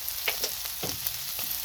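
Smash burger patties with onions on top frying on a hot griddle, a steady crackling sizzle with faint scraping taps throughout.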